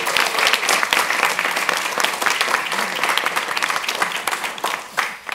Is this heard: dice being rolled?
no